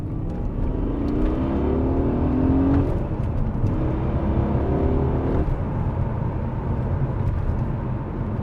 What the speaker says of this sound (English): Okay, I'll give it some gas here.